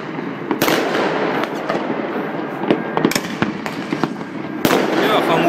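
New Year's fireworks burst continuously with sharp cracks and booms over a dense crackling rumble, some near and loud, others distant, while voices talk underneath.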